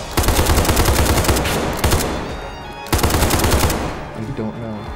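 Rapid automatic gunfire in the video game SCP Pandemic, two loud sustained bursts of fast shots separated by a short pause, close and dominant, with faint game sounds between.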